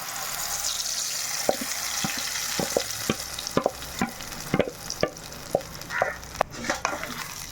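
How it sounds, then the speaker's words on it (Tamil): A thick ground banana paste sizzles softly in hot ghee, with a steady low frying hiss and scattered sharp clicks of a spoon stirring against the pan. "இப்போ இந்த நெய்யில் நம்ம அரைச்சி வச்ச வாழைப்பழத்தை சேர்த்துக்கலாம் பொறுமையாக"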